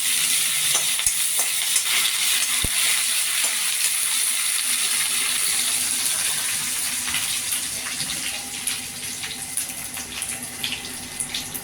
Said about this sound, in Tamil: காஞ்ச மிளகாய் போட்டேன் காஞ்ச மிளகாய் நல்லா பொரியட்டும்